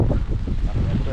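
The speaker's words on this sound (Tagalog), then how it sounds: "Ang lakas pa ng hangin ngayon." Strong wind after a typhoon buffets the microphone with a steady, loud low roar and gusting rumble throughout, continuous and close.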